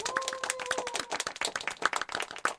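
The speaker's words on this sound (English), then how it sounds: "it still deserves a round of applause" A small group gives a brief round of applause at a casual live radio show, sparse, uneven hand claps close by, with a faint tone fading out early.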